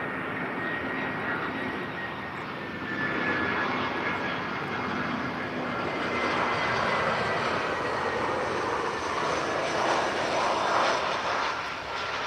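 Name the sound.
airliner landing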